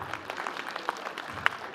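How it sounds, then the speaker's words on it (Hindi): Sparse, fairly quiet clapping from a small audience at a state teachers award ceremony, individual hand claps standing out unevenly over a short stretch. "जोरदार तालियां इनके लिए।"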